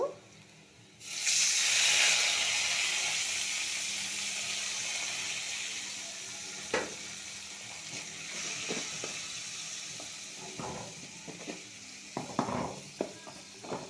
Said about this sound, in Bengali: তা আমি এটাকে এখন একটু পানি দিয়ে দিব।